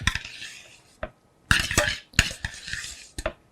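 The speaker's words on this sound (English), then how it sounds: "And as I stir it, you can see that it's starting to thicken quite a bit." A spoon scrapes and clinks around a pot while clam chowder base is stirred, in short bursts of scraping broken by brief pauses.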